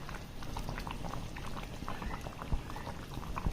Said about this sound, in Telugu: కర్రీ బాగా ఉడుకుతుంది